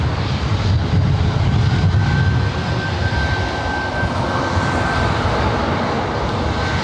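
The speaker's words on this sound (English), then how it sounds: "Next up, Southwest Airlines flight 2043 heading to Honolulu" A Southwest Airlines Boeing 737 MAX 8 at LAX, bound for Honolulu, gives a steady, loud jet engine roar with a heavier low rumble in the first few seconds that eases to an even broadband wash.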